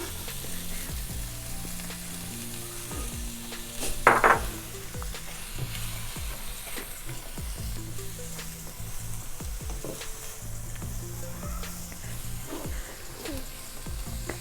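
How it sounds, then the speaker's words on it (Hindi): Onions sautéing in butter in a pan give a low, steady sizzle with a brief louder scrape of stirring partway through. No one speaks. "प्याज को हम सोते करेंगे"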